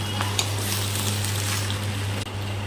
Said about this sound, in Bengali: এখন ভালো করে নাড়াচাড়া করে নামিয়ে নিতে হবে